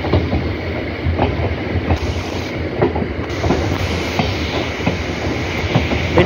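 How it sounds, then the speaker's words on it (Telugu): A passenger train running from Vijayawada toward Tenali in rain gathers speed, a steady close rumble broken by rhythmic wheel clacks and faint squeals, with no voices. "మన ట్రైన్ అయితే స్పీడ్ అందుకుంది"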